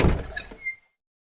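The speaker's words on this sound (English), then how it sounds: "He turns the light off and opens the bathroom door." A bathroom door in a dark house opens with a short, close thump and a brief creak, then the sound cuts off into silence.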